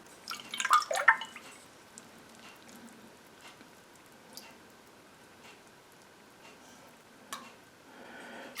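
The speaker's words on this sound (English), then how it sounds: "And now you remove the whey down to the curd level in the pan here." Whey is drawn off cheese curd in a pan, giving a few close liquid splashes and trickles early on, then sparse faint drips and small clicks in a quiet room.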